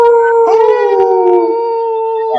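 A person imitates a wolf with a loud, sustained, wavering howl that slowly falls in pitch, alone and close.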